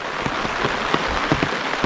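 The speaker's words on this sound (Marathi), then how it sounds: "पाऊस देखील आहे बघा छत्री आणली आहे मी मोठी" Steady rain patters on a surface, with dense, even drops and no voices.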